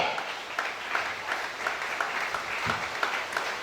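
A church congregation at a 2020 worship service in Gabon applauds with continuous, even clapping, a steady crowd roar of hands close and full, with faint voices mixed beneath.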